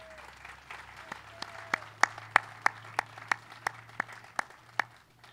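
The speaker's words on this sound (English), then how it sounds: "Can we have a round of applause for our young Marines?" Sparse, distinct clapping from a small group at a Veterans Day event honoring young Marines, individual claps sharply audible over a low steady hum, growing a little louder and more rhythmic before trailing off.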